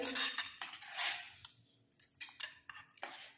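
A metal spoon scrapes and clinks through vegetable poha khichdi mixed with ghee-fried cashews in a pan, in several close, bright strokes separated by short pauses.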